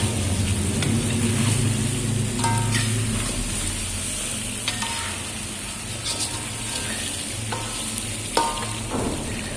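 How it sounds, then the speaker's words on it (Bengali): Potatoes and chicken pieces fry in a generous amount of oil. A loud, continuous sizzle is broken by occasional scraping stirs, with no voices. "আলুটারে কষাইতেছি মাংসের সাথে"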